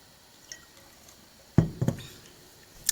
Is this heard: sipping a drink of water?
yes